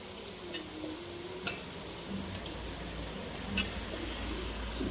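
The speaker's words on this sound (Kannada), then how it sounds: "ಚಿಕನ್ ಆಗ್ತಾ ಇದೆ" Chicken cooking in a pan gives a faint, steady sizzle with a few light ticks and utensil knocks scattered through it, and no talking.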